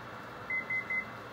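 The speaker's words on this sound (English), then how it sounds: "So there's our timer." A kitchen timer going off during stovetop cheeseburger cooking gives three short, evenly spaced electronic beeps, clear and close over a low background hiss.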